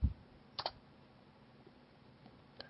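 A few crisp key clicks on a computer keyboard as a command is typed into a terminal on a dev server, quiet and sparse with short pauses between presses.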